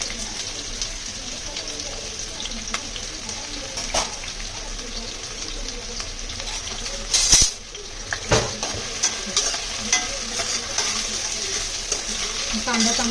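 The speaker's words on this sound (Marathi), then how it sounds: "हा कांदा चांगला शिजवून घ्यायचा त्याच्यामध्ये" Four large onions sizzle steadily in a hot pan while being stirred, with continuous frying crackle and occasional scrapes and clinks of a spoon against the metal pan, close up and without talking.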